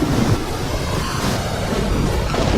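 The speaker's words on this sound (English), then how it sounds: "The wind tears through town." Strong wind roaring with crashing surf as Cyclone Ida makes landfall on a town at night, a loud, continuous broadband rush with gusting swells and no voices.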